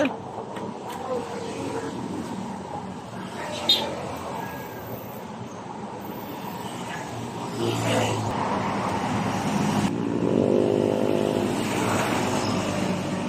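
A Yamaha NMAX version 1 scooter with an ABS fault idles and runs steadily during a test drive, a low continuous engine drone that swells slightly toward the end.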